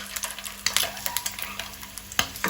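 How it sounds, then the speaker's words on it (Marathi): Boiled eggs stir-fried in a little hot oil in a pan for Goan-style egg masala, a close sizzle broken by repeated sharp scraping and stirring clatters, with no talk. "तांतयां आमकां मातशी तेलार परतून घेवपाक जाय"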